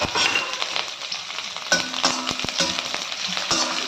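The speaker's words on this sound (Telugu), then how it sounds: "వేసుకొని మనం బాగా ఫ్రై చేసుకోవాలి" Chana dal, curry leaves, dried chillies, cumin and mustard seeds frying in hot oil as upma tempering, a dense steady crackle with sharp popping clicks and a few spoon scrapes against the pan.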